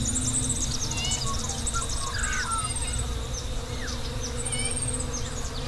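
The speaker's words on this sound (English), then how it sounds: "part of that had a looping soundtrack of blowflies, crows and cicadas" A looping soundtrack of buzzing blowflies forms a dense, continuous insect drone, with higher chirping calls layered over it at a steady level throughout.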